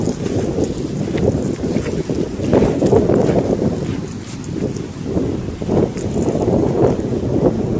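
Strong wind buffets the microphone in continuous low roaring gusts that swell and ease over several seconds, with no voices.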